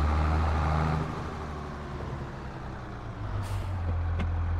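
Air brakes on a truck in Farming Simulator 22: a steady low engine drone with a short sharp pneumatic hiss release near the end, followed by a brief click.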